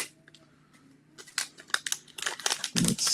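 A knife slices open a sealed package. It starts quietly, then rustles and cuts into crinkly packaging in quick close bursts, growing louder toward the end with no voices.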